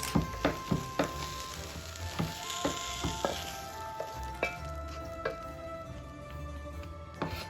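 Sugar snap peas blister in a hot pan, a steady close sizzle and crackle with scattered pops and light stirring knocks running throughout, fairly quiet and with no one talking.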